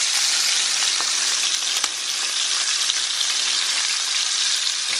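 Hot dogs and small chilies frying until browned on a street-style griddle, a loud, dense, continuous sizzle with a single sharp tap near the middle and no voices.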